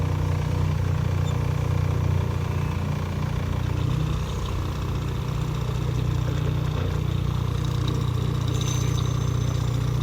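Vehicles reversing on a road with engines idling, a steady low rumbling drone that holds constant and fairly loud throughout without clear changes.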